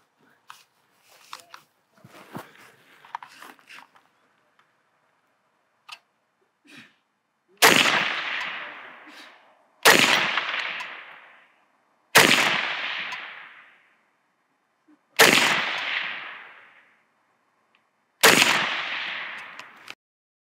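A rifle fitted with a red dot sight fires five single rounds at a shooting range, each a sharp, loud crack with a decaying echo, spaced about two to three seconds apart after some quiet handling clicks.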